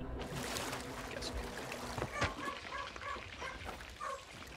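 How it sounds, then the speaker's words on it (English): A dog barks repeatedly in short bursts aboard a pirate ship in the Sea of Thieves video game, mixed with sloshing water and creaking boat sounds at a moderate level. "Who brought a dog on board?"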